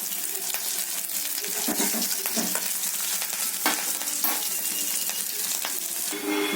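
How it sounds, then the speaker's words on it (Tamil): Onions, mustard seeds and urad dal sizzling in sesame oil with curry leaves for a sambar tempering, a steady close crackling fry with occasional stirring scrapes of a utensil in the pan. "தாளிப்பு நல்லெண்ணெய் ஊற்றிருக்கேன். கடுகு, உளுந்தம்பருப்பு, வெங்காயம்,"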